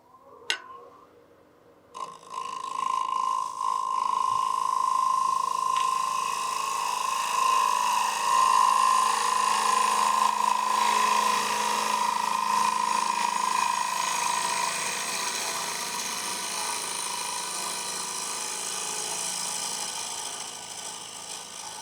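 A gouge takes a roughing cut on a green wood bowl spinning on a lathe, a steady loud tonal cutting whine that starts after a brief pause and sustains continuously, easing slightly toward the end.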